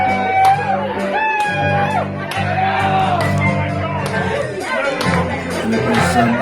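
Lively crowd at a small house party gig, people shouting, whooping and chattering close by over music with sustained tones, continuous dense babble throughout.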